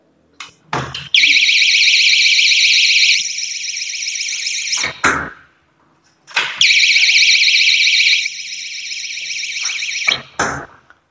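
A loud, shrill electronic anti-theft door alarm blares in two long bursts of several seconds each as the door is pushed, with door clunks and bumps before and after each burst.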